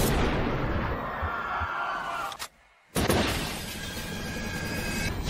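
Sniper rifle fire from the action film Shooter: loud, dense crashing and shattering noise, then a sudden cut to near silence, followed by a sharp burst and further sustained rumbling debris.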